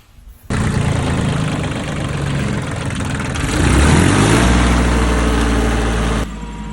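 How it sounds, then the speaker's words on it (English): A heavy engine starts abruptly and runs loud and close, its rumble rising as it revs up before settling back down. "Dad got his tractor running and it's going good"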